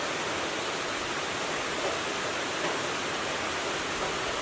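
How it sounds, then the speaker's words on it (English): Heavy rain pours outdoors in North Carolina as a dense, even hiss, a constant broadband wash with no breaks or individual drops standing out, heard alone and at moderate level. "It is pouring out here in North Carolina today."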